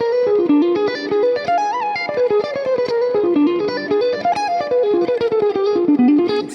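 Heavily distorted electric guitar playing a diminished lick, a fast, loud run of notes winding up and down with no voice over it.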